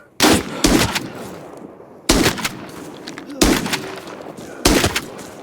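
Four loud, booming shotgun blasts in the video game Arena Breakout Infinite, spaced a second or more apart, each with a sharp crack and a short echoing tail.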